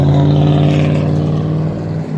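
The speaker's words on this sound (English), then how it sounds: "you heard that truck right there" A loud, close engine roars with a deep harmonic rumble, holding steady then easing slightly as the truck drives past.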